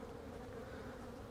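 A steady, dense hum of many honey bees buzzing together around a hive, continuous and close, with no other sounds.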